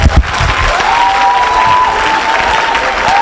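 A church congregation applauds and cheers loudly and steadily, a dense crowd roar with clapping throughout and a few voices rising above it.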